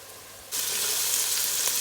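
Onions frying in a pot over low-medium heat, a steady broadband sizzle that begins abruptly and holds loud and even, close by.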